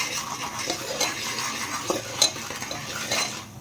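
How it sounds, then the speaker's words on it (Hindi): A spoon stirs popcorn and turmeric powder in a cooker, making a steady close scraping rustle with light metallic clinks against the pot and a faint sizzle underneath, and no voices. "और थोड़ा हम इसमें डालेंगे हल्दी पाउडर, और इसको हम ऐसे में मिक्स करेंगे।"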